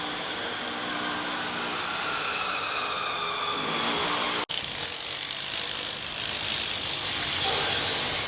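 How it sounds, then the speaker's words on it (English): Construction noise from a restaurant being built near a beach street, a loud continuous mechanical grinding and whirring with ratchet-like tones that shifts character midway after a sharp click. "So this is all the noise you're about to hear up here. There's a restaurant under construction."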